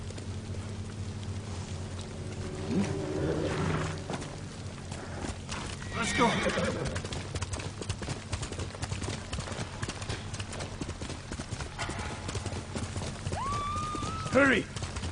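A horse's hooves clip-clop at a quick pace in the video game Ghost of Tsushima, with a loud neigh near the end and people talking over the galloping.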